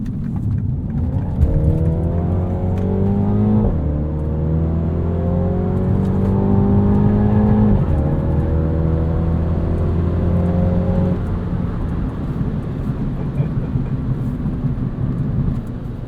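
A 2022 MINI Cooper John Cooper Works Convertible drives through corners. Its engine note climbs steadily and drops at each gear change, loud and continuous from inside the car, with no talking.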